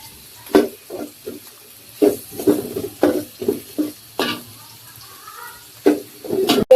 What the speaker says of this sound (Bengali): এই যে পেঁয়াজ রসুন ভেজে নেওয়া হচ্ছে।